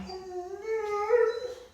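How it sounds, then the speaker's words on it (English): A dog howls and whimpers in a rising, wavering tone for nearly two seconds, fairly close and clear with nothing else over it. "that was my dog."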